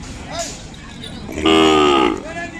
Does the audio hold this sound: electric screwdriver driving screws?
no